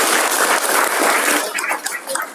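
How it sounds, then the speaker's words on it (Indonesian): Audience applause: a steady wash of clapping from a crowd that carries for a couple of seconds before loosening into more scattered claps near the end. "Tepuk tangan."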